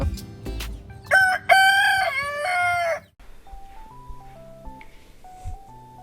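A rooster on a farm in Chaiyaphum, Thailand, lets out one loud, close cock-a-doodle-doo, then soft background music follows.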